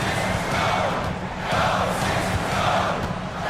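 An arena crowd in a basketball video game roars in a continuous, loud wash of cheering and shouting, swelling slightly midway with no break.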